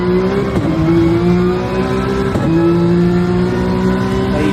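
A race car engine in a sim racing game holds a loud, steady high drone, with two brief dips as the car brakes into the first turn before the note settles again, with no other sound over it.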